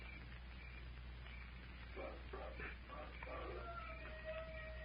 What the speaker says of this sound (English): There it is. Wolf howl.